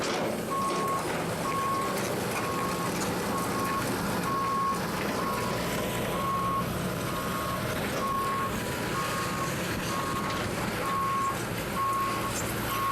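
An excavation truck works around a house raised on blocks at a dig site, its reversing alarm beeping steadily and evenly over a constant rumbling engine and broad machinery noise.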